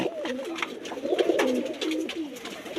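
A pigeon coos nearby in a soft, warbling, repeated phrase, with faint rustling around it and no speech.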